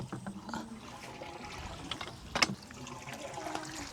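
Water pumped by hand from a dug well trickles and splashes as it flows in, a steady, soft outdoor rush with a few sharper clanks of the pump mechanism partway through.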